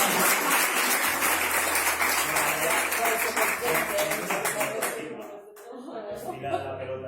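A class group applauds with brisk, dense clapping for about five seconds that breaks off abruptly, followed by voices talking.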